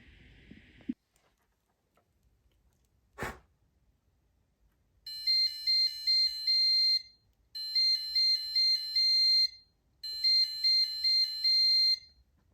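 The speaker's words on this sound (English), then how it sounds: "the passive buzzer and the red LED will turn on." A passive buzzer on an Arduino security alarm beeps in three repeated bursts of rapid, high-pitched tones, each lasting about two seconds, separated by short pauses in an otherwise quiet room.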